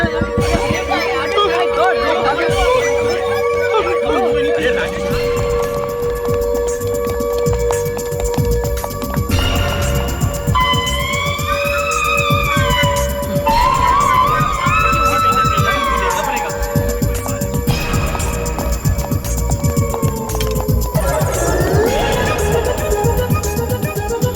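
A siren-like alarm wails in rising and falling sweeps over a steady tone, loud beneath dramatic film music and background voices.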